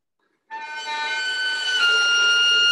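A cello plays an elegy with the bow drawn at almost no string pressure, giving a thin, airy ghosting tone of sustained wavering notes that starts abruptly and holds steady, alone with no talk.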